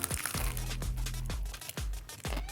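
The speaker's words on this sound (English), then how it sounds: "I love the crunchy outside." Teeth bite into a crisp, double-dipped fried onion ring, giving several loud, close crunches and crackles spaced apart, with a low steady hum underneath.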